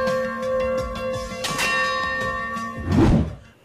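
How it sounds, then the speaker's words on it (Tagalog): A bell struck hard with a baseball bat during military training rings out with sustained tones under ambient noise, then a loud clanging hit lands near the end. "kinuha ni O'Neil ang isang baseball bat at hinampas ang bell"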